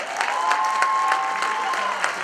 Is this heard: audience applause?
yes